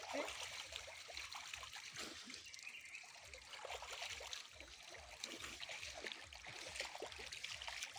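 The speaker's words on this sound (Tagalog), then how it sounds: "Sarap maligo dito sa ilog." River water splashes and trickles steadily as someone bathes and wades, a close, continuous wash of small splashes with no talk.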